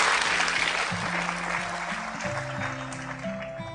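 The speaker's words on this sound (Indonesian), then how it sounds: "Tepuk tangan setulus-tulusnya sampai untuk beliau." Audience at an Indonesian religious study gathering (Ngaji Bareng) applauding warmly, a steady wash of clapping throughout, with faint musical tones or voices underneath.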